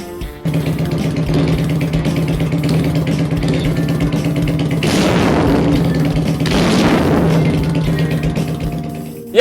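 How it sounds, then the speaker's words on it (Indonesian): A Benelli PE 250 motorcycle with a custom full-system exhaust idles with a deep, throaty exhaust rumble, then revs twice in quick bursts before settling back to idle. "ini adalah suara knalpot Benelli PE 250 yang menggunakan knalpot full system custom"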